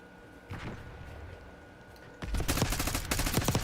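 Gunfire shooting through a wall in a shooter video game: a faint shot, then a loud burst of rapid automatic fire that runs to the end.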